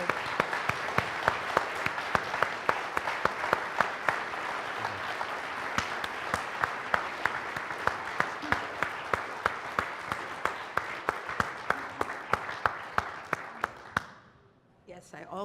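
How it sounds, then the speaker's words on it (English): Audience applause fills an award ceremony hall, steady dense clapping with sharp individual claps standing out, sustained for about fourteen seconds before fading abruptly to near silence. "I really think that you guys should applaud these 2 people"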